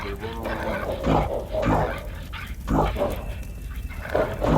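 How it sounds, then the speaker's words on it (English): Several dogs yelping and barking in a chaotic outdoor scene, loud overlapping bursts repeating throughout with a continuous noisy background. "The dogs land and yelp and bark"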